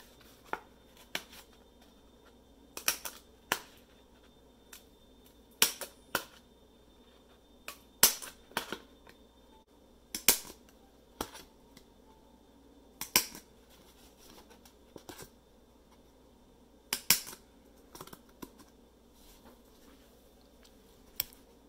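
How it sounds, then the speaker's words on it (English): A handheld hole punch snaps through card stock again and again while holes are made around the edge of a lacing card, sharp close clicks at uneven intervals over a quiet background. "we're going to hole punch all the way around the outside of the card"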